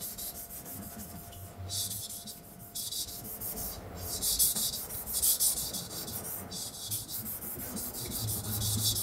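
Rhythmic scraping strokes of a blade being polished on an NSK 3000-grit diamond sharpening stone, about eight close, even passes with soft hissing rasp, quiet and alone.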